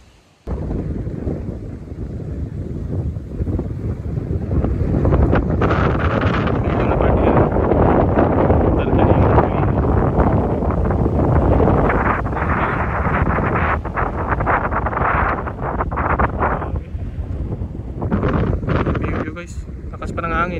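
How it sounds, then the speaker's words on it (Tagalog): Strong wind buffets the microphone on a mountain road under construction, a loud continuous low roar that persists for the whole stretch, with a voice faintly present. "lakas pa ng hangin"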